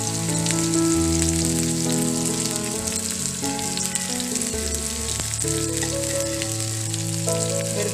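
Sliced onions fry in hot oil for chicken biryani, a steady dense sizzle that holds loud and continuous from start to end, with no one talking.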